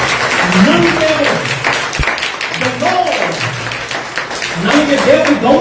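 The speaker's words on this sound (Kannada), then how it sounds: "ಕೈ ಚಪ್ಪಾಳೆ ತಟ್ಟಿ ದೇವರಿಗೆ ಸ್ತೋತ್ರ ಮಾಡಿ" A church congregation claps hands in praise during a sermon, with busy, continuous clapping running under a preacher's loud voice.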